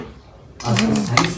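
Metal spoons clink and rattle as they are set into a kitchen cutlery drawer organiser, close and fairly loud, following a brief quiet moment.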